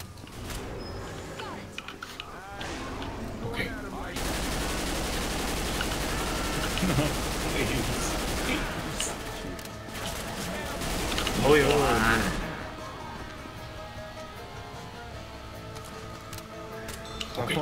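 Sustained automatic gunfire from a Left 4 Dead 2 match, dense rapid bursts filling the middle stretch loudly, with quieter game ambience and mechanical clicks before and after.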